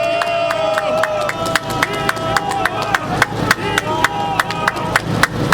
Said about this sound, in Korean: 박수 한번 크게 보내주시기 바랍니다